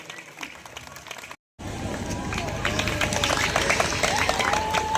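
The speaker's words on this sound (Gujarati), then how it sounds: "આપણે તાળીઓથી બરાબર વધાવી લઈશું।" Audience at a community award ceremony honouring bright students, with a brief gap then continuous loud crowd noise that reads as sustained clapping and cheering throughout.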